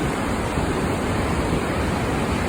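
The Snake River at Idaho Falls rushes in a steady, loud broadband roar like falling water, with no voices.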